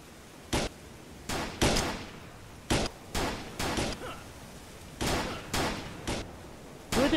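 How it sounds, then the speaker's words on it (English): Enemy gunfire aimed at the player in the game Planet Explorers: a string of separate sharp, clanging shots, some single and some in quick pairs, spaced irregularly over a quiet background. "But they're shooting at me."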